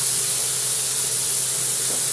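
Thin tenderloin steaks sizzling on a grill after being flipped, a steady, loud hiss of frying that runs unbroken throughout with no talk.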